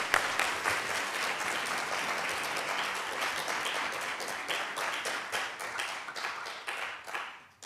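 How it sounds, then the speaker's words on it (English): Audience applause after the introduction of a speaker at a lecture on teaching computers to see, a dense steady round of clapping that runs the full length and thins slightly at the end, with no voices over it. "We'll give Will a round of applause to start"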